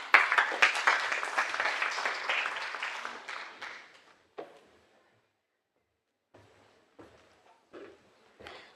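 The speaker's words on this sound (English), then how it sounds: "If we could give him a good round of applause" Audience applause at a global trade facilitation summit in Dubai, loud and sustained for about four seconds, then fading to scattered, fainter claps with gaps of near silence.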